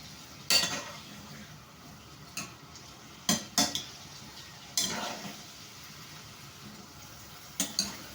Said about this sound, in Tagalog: So, paghaluin natin. Paghaluin natin yung ating ampalaya.